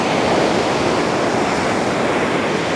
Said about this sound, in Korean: 파도가 너무 갑자기 이렇게 들어와서요